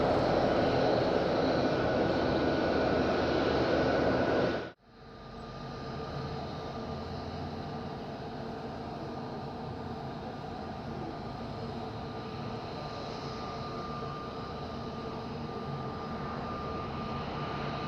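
A Binter turboprop airliner at windy Madeira Island Airport gives a loud, broad roar that cuts off sharply after about five seconds. A steadier, quieter engine hum with a faint tone continues to the end.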